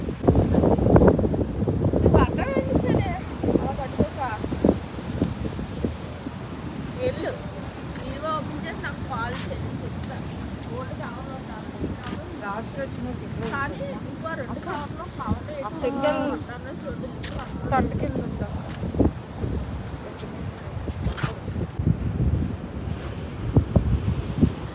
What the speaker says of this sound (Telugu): ఈరోజు బీచ్ అయితే చాలా బాగుంది.